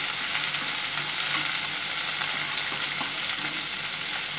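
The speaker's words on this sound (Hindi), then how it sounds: "और सबसे पहले मैं ये ग्रीन कैप्सिकम डाल दूंगी इसमें" Green capsicum sizzles steadily in a hot pan over a high gas flame, a continuous, fairly loud frying hiss with faint stirring clicks throughout and no talk.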